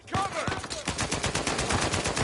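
Sniper and other gunfire in the Uncharted 4 video game, a rapid string of sharp, loud shots cracking in close succession, with a voice briefly heard at the start.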